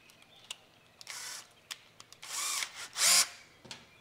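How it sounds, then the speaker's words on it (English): A power drill whirs in several short bursts, the last one loudest as it drives a screw home into a Jeep Gladiator nerf bar in a tight space, with quiet pauses and small clicks between bursts. "Barely enough room to get the drill in here"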